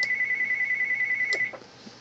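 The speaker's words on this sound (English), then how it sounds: "Why is my phone ringing?" A mobile phone ringing indoors, a steady high electronic tone that repeats evenly and then stops abruptly, fairly faint and alone.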